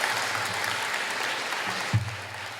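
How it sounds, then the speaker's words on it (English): An audience at a St. Louis gala for an Asian American organization's 50th anniversary gives a round of applause for the county executive and the mayor. The clapping is dense and sustained throughout, with a brief thump near the end. "Let's give them both one more round of applause."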